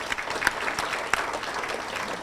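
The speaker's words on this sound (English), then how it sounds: "Give them a round of applause" A chamber of commerce audience gives a round of applause at a legislative recap gathering, dense even clapping from many hands with occasional louder individual claps, sustained throughout.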